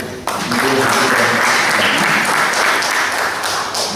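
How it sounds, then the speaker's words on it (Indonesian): An audience at a creative packaging training workshop applauds a small business owner being introduced, loud sustained clapping starting abruptly and holding steady throughout. "Boleh tepuk tangannya Bu."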